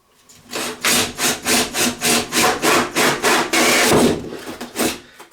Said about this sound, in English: now I'm going to bore a hole in the top of the cabinet itself